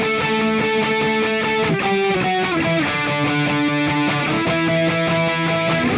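An electric guitar with a distorted tone plays octave shapes from a song, moving up and down the neck in a steady, driving rhythm, loud and close with no talking.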